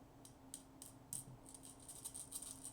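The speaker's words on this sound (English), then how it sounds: "And shuffle these into the bag." Small game tokens shuffled into a bag for a toad poker solitaire game, faint brief clicks and soft rattles in quick irregular bursts close by.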